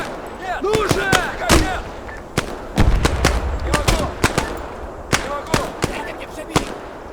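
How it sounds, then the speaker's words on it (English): A grenade is fired in a war video game amid a firefight: sharp, loud shots crack out irregularly, with a heavier thump near the middle and distant whistling tones in the background. "let me fire a grenade that way"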